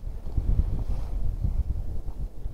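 Strong wind buffets the microphone while fishing outdoors for roach, a steady low rumbling roar with gusty swells throughout.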